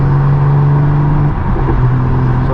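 A straight-piped BMW M4 G82 drives along with a loud, continuous engine and exhaust drone, its pitch holding steady and then shifting slightly, close and unbroken.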